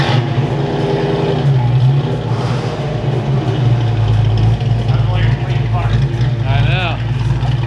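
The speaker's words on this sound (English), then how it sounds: "That's just a good sounding Fox body, ain't it?" A Ford Fox body car's engine rumbles steadily nearby with a deep, continuous low drone, while people talk over it throughout.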